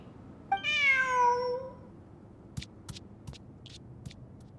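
A video-game cat gives one clear, drawn-out meow close up, followed by a few short clicks and taps against a quiet background, with no talk.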